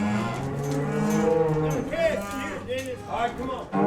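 Cattle in a Tennessee herd moo loudly and repeatedly during weaning separation, several overlapping drawn-out calls from nearby animals with no pause between them.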